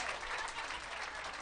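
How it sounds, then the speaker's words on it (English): An audience at a book festival applauds, a dense steady patter of many hands clapping together at moderate distance, brief and unbroken. "All right, round of applause for our clock holder too"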